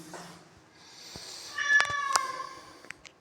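A cat lets out a couple of drawn-out meows at moderate distance, with a few soft clicks and rustles afterward and no speech.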